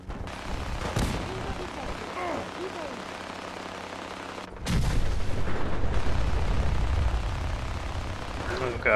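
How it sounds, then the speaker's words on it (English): Gunfire and explosions in a battle in the video game Fallout 4: sharp booming blasts at about one and four and a half seconds, then sustained rumbling fire, with a voice talking at times. "Oh god, the sheer amount of explosions and bullets."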